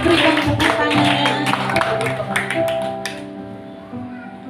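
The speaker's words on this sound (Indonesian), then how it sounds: "Berikan tepuk tangannya." A small group applauds the engaged couple at a Batak engagement gathering, a burst of clapping over music that tapers off after about three seconds.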